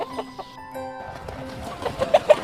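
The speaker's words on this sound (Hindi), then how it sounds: "अचानक घड़े से 100 मुर्गियां पंख फड़फड़ाते बाहर आने लगी।" Chickens cluck in a Hindi children's story about a magic pot, starting out faint among soft music and growing into louder, busier clucking by the end.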